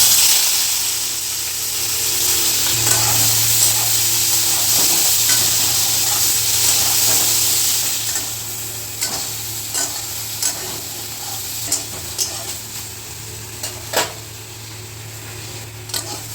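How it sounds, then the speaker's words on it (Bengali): Eggplant coated in salt and turmeric sizzles loudly in hot mustard oil with a steady hiss. Repeated clattering stirs and scrapes follow in the second half. "গরম তেলের মধ্যে দিয়ে দেবো নুন হলুদ মাখানো বেগুন"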